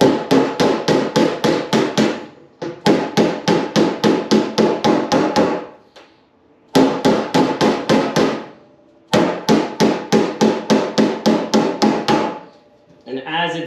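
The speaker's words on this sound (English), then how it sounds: "just take your mallet and just start gently. Going along that bend." A mallet strikes sheet metal along a bend in fast, loud, ringing bursts of about eight to ten even blows each. The bursts come close by and alone, with short pauses between them.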